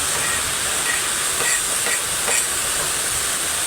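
Tomatoes dropped into a hot pan of sautéing aromatics for ginisang monggo, giving a loud, steady sizzling hiss with faint crackles throughout.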